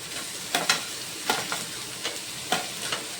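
Ginger, garlic and green chillies frying in a pan, with a soft steady sizzle broken by several short stirring scrapes, close and moderately loud, with no talk.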